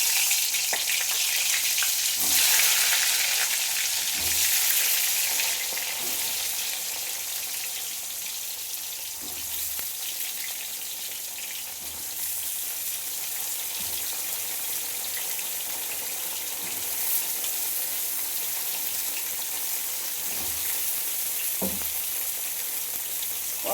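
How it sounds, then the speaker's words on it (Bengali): Pointed gourd pieces frying in hot oil in a pan, a loud, constant close sizzle with occasional soft knocks and stirring scrapes spread across the stretch, no voices. "এইবার আমি এর মধ্যে পটলগুলো ভেজে নেব।"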